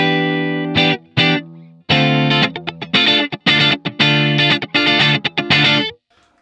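Electric guitar played alone through a Line 6 HX Stomp amp model, a dry, slightly distorted tone with short chord stabs and single notes separated by brief pauses, loud and close.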